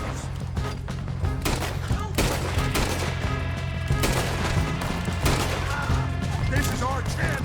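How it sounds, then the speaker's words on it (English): Red Dead Redemption 2 shootout with dense, continuous gunfire, rapid overlapping rifle and pistol shots cracking loudly throughout, with voices shouting underneath. "Just keep shooting till nothing moves."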